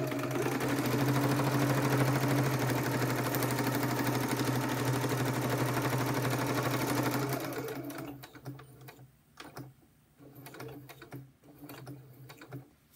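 A sewing machine runs in a fast steady whir, stitching the edge of an ephemera folio with document protectors. It stops after about seven seconds, leaving scattered handling clicks and rustles, all close by with no speech.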